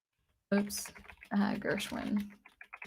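Rapid clicking of a computer keyboard being typed on, with quick bursts of keystrokes mixed with nearby speech.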